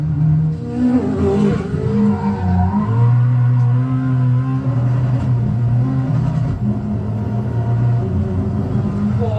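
A Koenigsegg Jesko Attack hypercar with a nine-speed gearbox drives hard on a test track. Its engine howls and climbs through rapid upshifts, loud and close, with steady rising and falling pitch over a low rumble.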